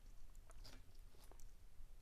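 Close, faint crunching as Boulder Canyon salt and pepper kettle cooked potato chips are bitten and chewed, a run of crisp cracks over a couple of seconds.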